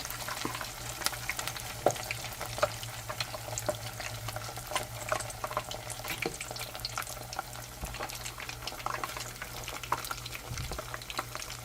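Frozen strawberry waffles bubble steadily in a deep fryer basket, a continuous dense crackle of hot oil with a low steady hum beneath, scattered louder pops throughout.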